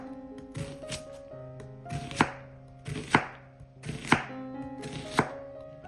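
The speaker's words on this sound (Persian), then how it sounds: "یه دونه پیاز تقریبا بزرگ رو به صورت خلالی خرد میکنم." A large onion sliced into strips with a knife on a cutting board, five sharp evenly spaced chops roughly a second apart, close and distinct, with no talking.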